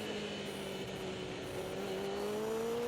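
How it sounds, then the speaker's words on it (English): A racing motorcycle at an AHRMA national roadrace at Blackhawk Farms drones steadily, its engine pitch climbing as it accelerates, with a gear change partway through, heard from a moderate distance with no talking. "You accelerate, shift up again, shift up one more time"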